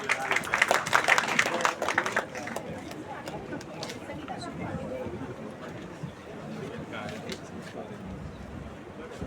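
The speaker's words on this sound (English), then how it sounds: "Please welcome our dignitaries with a huge round of applause." An audience at a two-day international seminar on NEP 2020 at BBAU Lucknow claps to welcome the dignitaries: a dense burst of applause that is loudest at first, then settles into steady crowd murmur.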